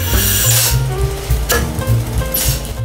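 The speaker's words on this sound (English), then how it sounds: "We want to add open cell spray foam on top of this." Open cell spray foam insulation being sprayed in a framed building, a steady close hiss with a low rumble and brief clinks underneath.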